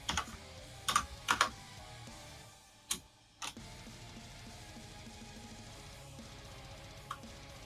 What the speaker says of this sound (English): I'll type out the whole thing for you.